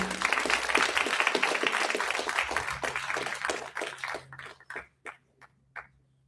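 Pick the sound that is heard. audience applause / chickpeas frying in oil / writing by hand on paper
audience applause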